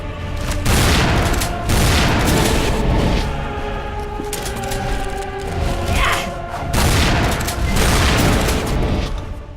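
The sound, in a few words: shotgun firing in the video game Tomb Raider Anniversary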